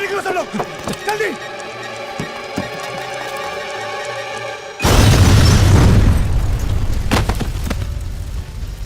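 A bomb blast erupts in a Mumbai gangster film scene, a loud sudden boom with a lingering rumbling roar that follows tense talking.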